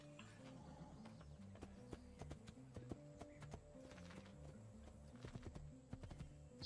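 A horse's hooves clip-clop on a city street near a bridge at Florence's east gate in the video game Assassin's Creed II, a steady moderate-tempo rhythm of hard knocks set against a continuous low background score.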